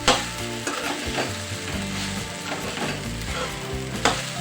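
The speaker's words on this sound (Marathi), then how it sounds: "याला 2-3 मिनिट असंच परतून घ्यायचं" Sabudana khichdi stirred and sautéed in a pan, a steady loud sizzle of frying with repeated scraping stirs of a spatula, close up and without any talk.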